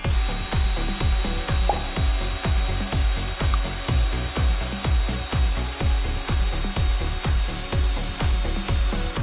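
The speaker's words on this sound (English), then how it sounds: "So once I initially drilled through the piece of acrylic with it on the scrap piece of wood" A step drill bit cuts through an acrylic sheet clamped over scrap wood, giving a steady loud grinding chatter with rapid regular ticks, like a ratcheting rhythm, close by with no talk.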